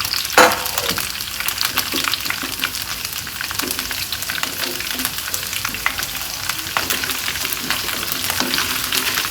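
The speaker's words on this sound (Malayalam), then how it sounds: "ചൂടായ എണ്ണയിലോട്ട് നമ്മളിപ്പോൾ റെഡിയാക്കി വെച്ചിരിക്കുന്ന വെണ്ടയ്ക്കയില്ലേ, അതിട്ട് കൊടുക്കാം." Okra sizzling in hot oil in a pan for a vegetable masala, a loud steady crackle with a sharp splash as the pieces go in early, continuing alone without talk.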